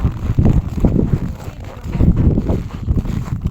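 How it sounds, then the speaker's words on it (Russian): Icy wind gusts during a night snowstorm in a village, low rumbling buffets against the microphone that swell and ease in uneven waves, loud and close, with no talking. "Ой, как холодно-то. Ветер."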